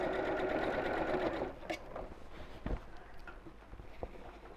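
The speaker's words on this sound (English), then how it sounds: "I'm going to stitch about 1/4 inch from the top all the way around" Sewing machine stitching around the top of a fabric tote bag: a steady whirring stitch for about a second and a half, then stopping, followed by faint handling clicks and small knocks, quiet and close.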